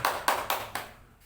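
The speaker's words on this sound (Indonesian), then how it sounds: "Tepuk tangan untuk kita semuanya pagi hari ini." Hands clap in a few sharp, evenly spaced claps, close and fairly soft, fading out with no talk, from a group led in applause at a morning session.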